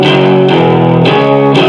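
Electric guitar played through a Pog 2 octave pedal, clean tone blended with an octave below, a sustained chord struck about four times in an even rhythm, loud and close with no talk.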